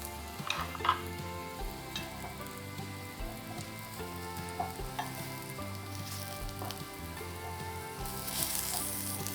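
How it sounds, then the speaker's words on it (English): Parsnips stir-fry in a preheated pan, a steady close sizzle with repeated scraping stirs and small spatters, continuous and fairly loud, with no talking. "Very important to preheat the pan. We want to stir fry quickly the parsnips."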